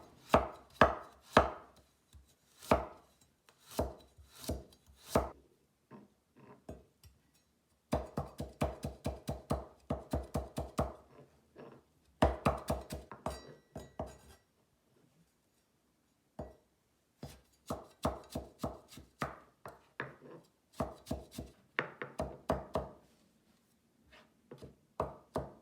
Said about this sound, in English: Let's cut it to small pieces.